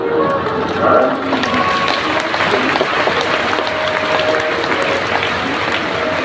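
An audience at a Shrimad Bhagwat Katha gathering in Buxar, Bihar claps continuously in a loud, rain-like wash of applause, with voices mixed in underneath.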